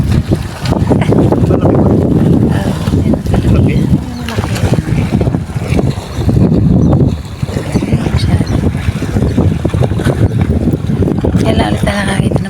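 Engine rumble and wind buffeting on open water, with people talking over the steady noise throughout.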